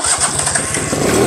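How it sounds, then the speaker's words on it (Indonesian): A Suzuki RC100 motorcycle engine starts and runs in a steady, throaty putter close by, with a dense low rumble throughout and no voices over it. "Ini mesinnya enak, starter jreng juga."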